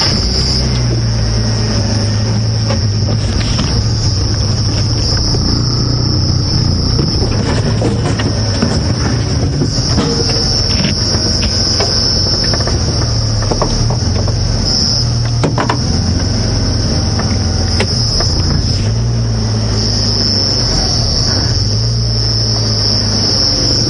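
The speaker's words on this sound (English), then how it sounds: "I'm going to try and find you a cicada" A cicada calls from a tree at night on a game reserve drive, a continuous loud, piercing high drone that holds steady throughout over a low rumble, with no voices.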